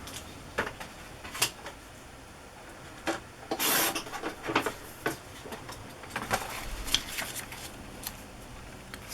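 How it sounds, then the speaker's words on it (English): Scissors or a blade trim a paper border off a journal page at close range, with soft rasping cuts and paper rustles in irregular bursts, including one longer crisp swish. "Going to trim that border off"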